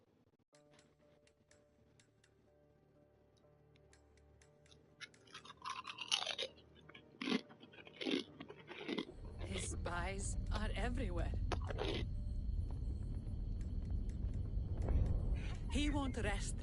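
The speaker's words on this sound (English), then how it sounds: "That crunching you hear is me eating sriracha Doritos." Close, crisp crunching of sriracha Doritos being chewed in irregular bursts, heard under spoken game dialogue and a steady background hum.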